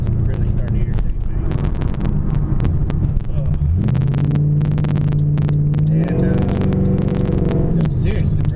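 A Pontiac G8 car drives with a steady engine drone and road rumble during a test hit, the engine note rising and climbing in pitch partway through before holding, with someone talking over it inside the cabin.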